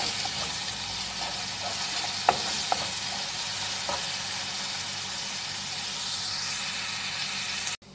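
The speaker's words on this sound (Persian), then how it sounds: "روغن داخل پیاز میریزیم و پیازامونو کمی تفت میدیم تا یک مقدار رنگ پیاز تغییر کنه." Onions sautéing in oil in a pan, an even crackling sizzle with a few clinks of stirring, close and steady until it cuts off at the end.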